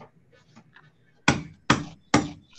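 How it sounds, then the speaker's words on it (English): Kids strike a meat hammer during a craft activity: three loud, sharp whacks land about half a second apart, following quiet, scattered voices and light handling noise. "everybody's kind of hammering."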